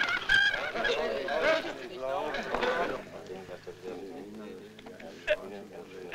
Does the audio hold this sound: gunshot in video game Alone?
no